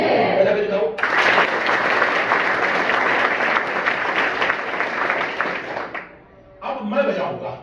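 A large audience claps heartily at a lecture for about five seconds, a dense sustained burst of applause, with a speaker's voice briefly before and after.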